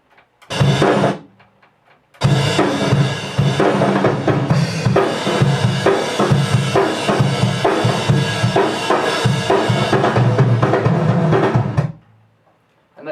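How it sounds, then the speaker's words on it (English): Metallic, noisy drums in a build-up section play loud and dense, a brief burst, a short pause, then a sustained pounding stretch of about ten seconds before cutting off. "The drums sound something like this."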